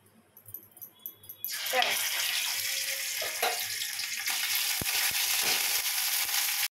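Ginger-garlic paste hits hot oil and ghee with whole garam masala, bursting into a loud, steady sizzle that starts abruptly after a quieter lead-in with a few light kitchen clatters, then fries continuously to the end.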